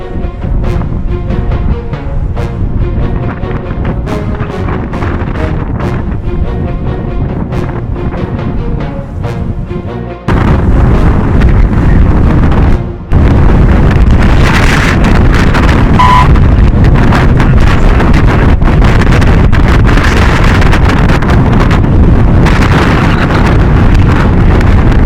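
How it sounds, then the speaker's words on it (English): Powerful gusts buffet the microphone outdoors on a Canadian trip near a hotel, a loud continuous roaring rumble that steps up abruptly partway through and stays full force to the end, with no voices. "Instead of dying down, the wind went full force."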